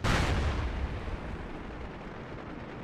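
Grenade blast in an online shooter game, a single loud, close boom with a heavy low rumble that decays slowly over a few seconds.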